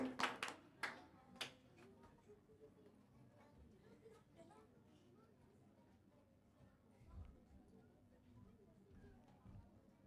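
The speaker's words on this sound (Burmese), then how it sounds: "လက်ခုပ်တီးပြီးတော့ကြိုဆိုကြအောင်နော်" A Zomi Adventist church congregation applauds a speaker: a brief spell of fairly loud hand claps at the start, then it fades into a low murmur of room sound.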